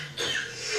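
A character coughs in a Breaking Bad drama scene, a short harsh burst close to the microphone, rising loud and raspy for under a second.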